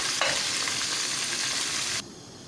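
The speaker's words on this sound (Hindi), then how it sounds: "सब चीज़ों के साथ पेस्ट को हमने शामिल कर देना है और इसको हमने अच्छे तरीके से फ्राई करना है इस पेस्ट को" Chicken curry paste fries hard in a pan with onions, a dense loud hissing sizzle that holds steady for about two seconds before dropping abruptly to a quieter background, close up and with no speech.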